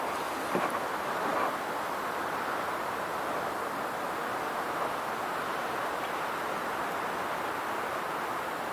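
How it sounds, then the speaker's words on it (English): Steady wind blows across the microphone in a continuous broadband rush up high at a canyon, with no voices. "It's kind of windy up here today a little bit."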